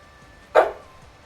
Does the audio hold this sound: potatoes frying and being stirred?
no